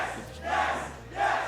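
A crowd at a Super Smash Bros. tournament, Regen 2022, chants in two loud swelling waves, a roaring mass of voices that rises, dips and surges again.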